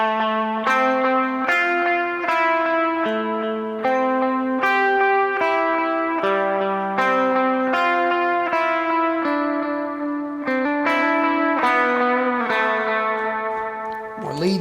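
Overdriven electric guitar played through a Neural DSP Quad Cortex with extra drive, ringing sustained chords and melodic notes with a bright, slightly gritty tone and echoey ambience, played alone.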